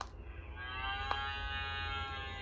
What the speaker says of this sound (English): Let's pat the cow to hear her moo.